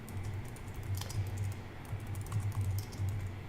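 Someone types a folder name on a computer keyboard in a series of quiet, quick key taps with short pauses, with no talk over it.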